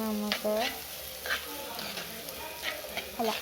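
Onions frying and being stirred in a pan, a soft constant sizzle broken by several scraping strokes of the spoon against the pan, heard close up.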